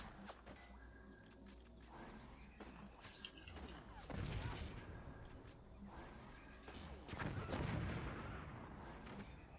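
Rockets firing in the RTS video game Forts, a run of sharp launches and booming blasts over a busy battle bed, with two heavier swelling explosions building toward the end.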